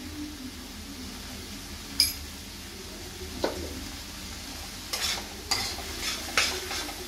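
Potatoes stirred in a pan with a faint sizzle underneath, a few sharp scrapes and clatters of a utensil against the pan arriving in an uneven cluster toward the end, close by with no talk.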